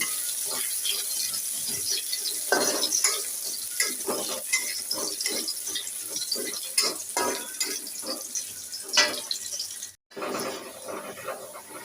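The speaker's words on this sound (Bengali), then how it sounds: "পেঁয়াজটা ভেজে নিই" Chopped onions frying in a pan in a home kitchen, a continuous crackling sizzle with intermittent stirring and scraping, fairly close, with a brief dropout near the end.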